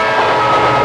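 A train rumbles along loudly and close, a dense steady roar of wheels and carriages.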